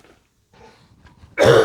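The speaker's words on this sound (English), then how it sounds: "I'm coughing my brains out as I'm rinsing these" A sudden loud cough burst from vapor off hot Carolina Reaper peppers being rinsed, following a stretch of quiet shuffling and faint handling noise, close and harsh.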